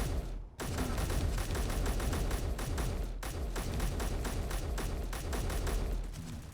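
Rifle gunfire in Space Engineers, fast repeated shots in steady bursts, close and loud, with one brief gap near the start and another near the middle before the firing resumes.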